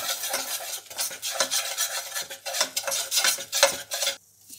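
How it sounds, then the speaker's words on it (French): A spoon stirs two heaped tablespoons of flour into a mixture in a bowl, making steady scraping, clinking strokes in a repeated rhythm close by, then stopping abruptly near the end. "Et je vais remuer tout ça."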